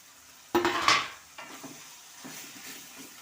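Pieces of meat dropped into a hot pan for sautéing give a sudden loud burst of sizzle and a clatter of stirring. The frying then settles into a quieter, steady crackle. No one speaks.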